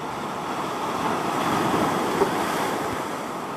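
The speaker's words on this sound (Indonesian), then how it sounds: "Gemuruh ombak yang membuat suasana kita menjadi refresh kembali." Ocean waves crash and roll on a South Aceh beach, a steady broad roar with some wind noise on the microphone, continuous and fairly loud with no speech.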